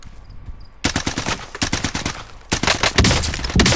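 Rapid bursts of automatic gunfire in Call of Duty Warzone, loud and close. The shots come in quick rattling volleys with a short gap between the two main bursts.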